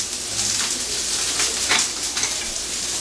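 Onions searing in a hot pan for Philly cheesesteak, a steady, close hiss of frying with a few brief crackling bursts, no voices over it.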